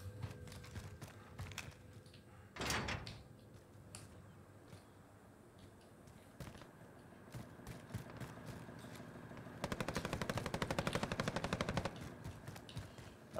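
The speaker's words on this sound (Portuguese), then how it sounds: "tem troca de tiro do lado esquerdo e do lado direito" Gunfire from a Call of Duty Warzone match: scattered single shots and short bursts at first, then a long rapid automatic volley near the end, set against a continuous low background rumble.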